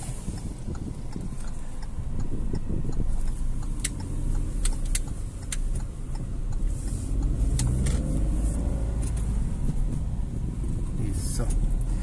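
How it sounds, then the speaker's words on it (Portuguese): A truck passes on the road near a driving-test area, giving a steady low rumble of traffic noise that continues throughout, with voices inside the car. "Espero que o caminhão passar e segue."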